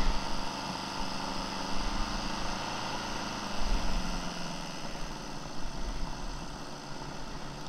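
Honda CB750F motorcycle engine idling steadily, with the engine note dropping partway through as the idle settles lower, a smooth continuous hum close by.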